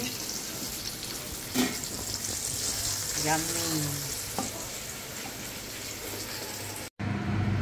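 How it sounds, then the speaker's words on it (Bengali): Eggplant slices fry in hot oil with a continuous, even sizzle and crackle at moderate loudness, a brief tonal sound and a couple of light clicks rising over it before a short cut near the end. "বেগুনগুলো একদম ভালো মতো ভাজা হয়ে গিয়েছে।"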